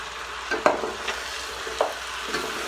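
Chicken kabsa stirred in a pot while cooking, soft sizzling under a few distinct scraping stirs of a utensil, close and moderately quiet.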